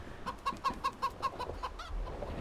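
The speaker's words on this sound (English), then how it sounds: "Hungry chickens." Hungry chickens in the Farming Simulator 25 video game cluck in a quick run of about eight sharp, evenly spaced clucks, then trail off, fairly close with no talking.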